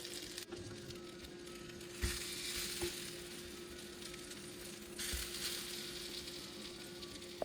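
Bread slices frying in butter in a pan for cinnamon French toast, a continuous close sizzle with a steady hum and occasional soft taps and shifts, no voices.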